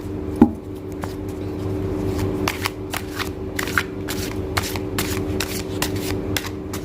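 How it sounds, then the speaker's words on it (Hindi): Playing cards being shuffled by hand, a series of quick crisp riffling bursts and soft slaps repeating at an irregular pace, close and clear over a faint steady hum. "कर लेते हैं फटाफट से शफल"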